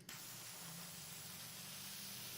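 A paint spray gun atomizes vehicle paint in a steady, close hiss that runs without a break, with no talk over it.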